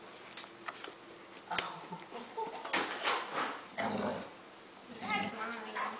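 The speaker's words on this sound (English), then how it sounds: "Wild dogs." A dog whimpers and grunts close by amid rustling, with a sharp short sound partway through and people talking over it.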